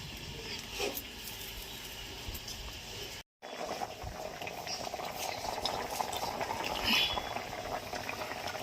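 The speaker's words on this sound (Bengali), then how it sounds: "তরকারি ফুটে গেছে।" Fish curry with yam simmers in a pot, a continuous bubbling boil that cuts out briefly partway through and then resumes, steady and moderately close.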